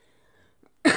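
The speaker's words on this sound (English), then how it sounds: "Excuse me for coughing." A single short, sharp cough bursts out near the end after near silence.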